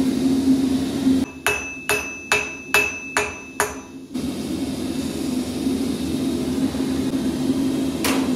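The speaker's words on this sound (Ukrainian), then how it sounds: "Перший раз я простукую молотком, далі пресом." Hammer blows on a Damascus steel billet at a forge, seven sharp ringing metallic strikes in a steady rhythm about half a second apart, close and loud over a constant workshop hum.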